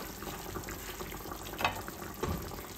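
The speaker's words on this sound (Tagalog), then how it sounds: "Kumukulo na po." Quiet bubbling and simmering of lechon paksiw with banana blossom in a pot, with soft irregular pops and a faint clink, close by and without speech.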